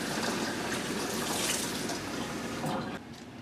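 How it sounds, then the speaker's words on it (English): Water running steadily into a pan around a springform cheesecake pan to make a water bath for a gingerbread cheesecake, a close, continuous pouring splash that cuts off near the end. "you're going to put the water right here to about 2 inches to the top of the springform pan"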